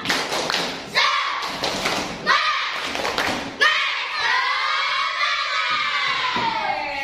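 A fourth-grade class doing the 'tepuk semangat' clapping cheer, loud rhythmic group claps and thumps interleaved with children shouting the chant together, ending in a long sustained chorus of young voices.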